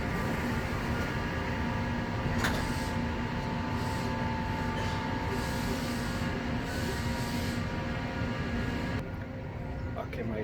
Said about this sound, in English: Now, this is the last metro.